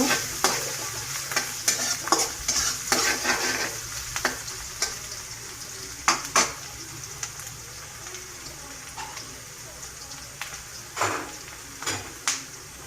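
Onions frying in oil in a pan for a fish curry with cauliflower, beans and potato, a steady sizzle broken by repeated scraping stirs, close and fairly loud, with no talking.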